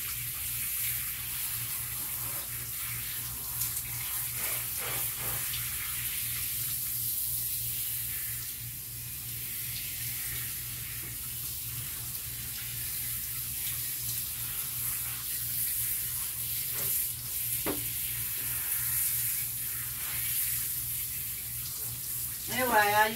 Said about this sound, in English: Anyway, I used my hand shower.